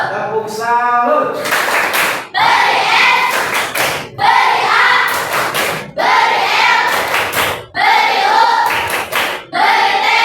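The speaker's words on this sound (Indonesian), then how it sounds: "Tepuk salut." A classroom group performs the 'tepuk salut' clapping chant, rhythmic bursts of hand claps alternating with chanted voices, repeating in several loud phrases across the clip.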